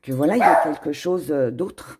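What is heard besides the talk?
small dog barking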